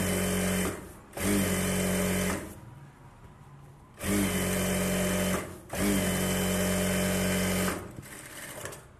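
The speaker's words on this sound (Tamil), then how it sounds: "ஒரு தையல் போட்டுருவோம்" A sewing machine stitching the lining of a Bharatanatyam dance dress, running in loud, close, steady whirring bursts of a second or two each, separated by short pauses, with no talking.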